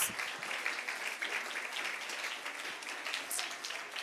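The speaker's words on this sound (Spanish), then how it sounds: "Le damos un aplauso a los niños por la ayuda" Church congregation claps for the children after a worship service, a continuous, moderately loud patter of many hands with brief swells, heard alone without speech.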